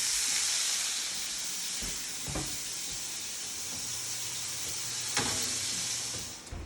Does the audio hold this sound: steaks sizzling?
yes